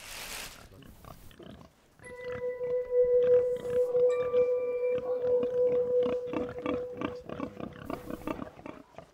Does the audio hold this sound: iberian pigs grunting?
yes